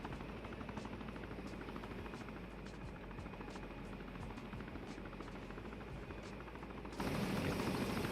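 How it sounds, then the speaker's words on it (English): A helicopter flies in the Arma military video game, its rotor chop steady and loud throughout with a constant dense engine roar that swells a little louder near the end, no talking. "Tell them all, get in the helicopter,"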